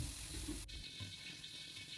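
Hot water pours into a hot wok holding dry-fried pounded spice paste for a kangkung coconut-chili dish, a sudden splashing rush that starts partway through and runs steadily to the end, with no talking.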